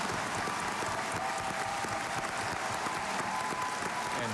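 An audience applauds a Scripps National Spelling Bee champion in the nation's capital, a dense, sustained patter of many hands clapping at even strength throughout, with no voices rising above it.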